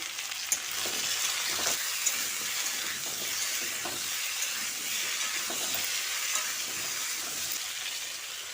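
Taro and potato pieces with salt and turmeric frying in oil on low to medium heat, a steady close hiss and crackle with occasional stirring scrapes and soft knocks, no voices.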